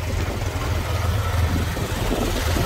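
A motorboat on Loktak lake in Manipur sits idling, its engine a steady low rumble, close and fairly loud throughout with no break and no speech over it.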